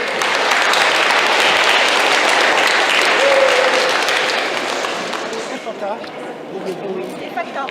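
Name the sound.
church congregation applauding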